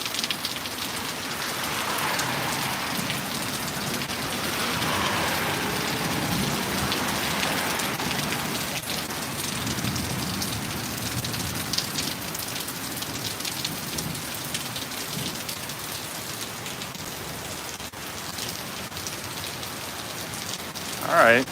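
Heavy rain pours steadily during a severe storm, a dense continuous hiss outdoors near a house with wooden basement doors, lasting throughout with a brief clatter at the end.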